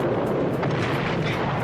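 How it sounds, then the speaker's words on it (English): Loud, continuous barrage of gunfire and explosive effects from a staged action scene for the Knight Rider TV show, a dense, unbroken roar with sharp cracks scattered throughout. "They're still shooting at us!"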